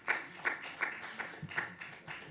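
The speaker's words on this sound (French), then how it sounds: "Ouais, vous pouvez applaudir." Light clapping from a few people in the audience of a municipal council meeting, a brief scatter of sharp hand claps in a loose rhythm, fairly faint and close, without speech.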